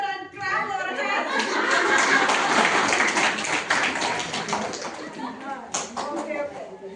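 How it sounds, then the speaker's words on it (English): A group at a Catholic leadership training session laughs together and claps, a dense burst of mixed clapping and chatter that swells early and then thins into scattered claps and voices toward the end. "let's all laugh together and clap our hands"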